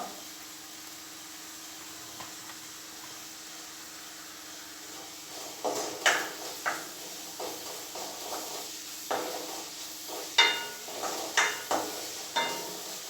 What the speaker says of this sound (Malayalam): ആ ഉള്ളി പെട്ടെന്നൊന്ന് വഴണ്ട് വെക്കുക